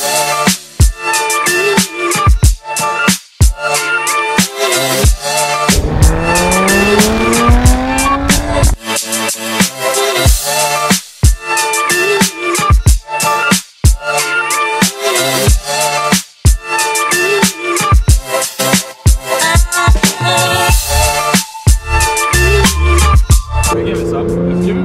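A supercar lapping a track: loud, continuous engine roar with rising and falling revs, repeated gear-change cuts and moments of tire squeal, heard close throughout.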